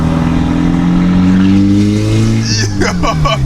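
A fully straight-piped Volkswagen GTI with a 3-inch downpipe drones loudly as its engine revs steadily, raw and close, with people talking over it near the end.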